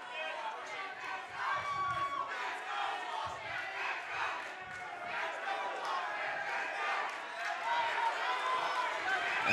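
Boxing crowd at ringside of a professional main event bout, chanting for fighter Josh Richards; a dense, loud wall of voices with rhythmic shouted pulses carries steadily throughout, close and continuous.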